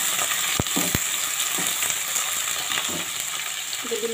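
Chicken sizzling and frying with browned onions in a pan, a steady loud hiss throughout with a few clinks and scrapes of stirring near the start and end.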